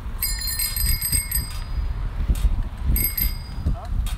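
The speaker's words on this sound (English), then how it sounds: "Check out my bell. It's pretty rusty." A rusty bicycle bell rings in two clear bursts of bright metallic trills, separated by a short pause, over rolling road noise and some background voices.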